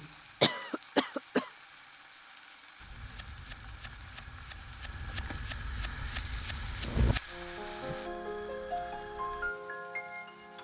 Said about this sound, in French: Elle tousse un peu parce qu'il y a beaucoup de fumée grise partout.